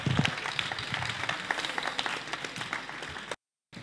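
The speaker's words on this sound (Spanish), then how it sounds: "Un aplauso." An audience at a school science project forum applauds a presenter with a dense, steady patter of many hands clapping, fairly quiet and continuous before cutting off abruptly near the end.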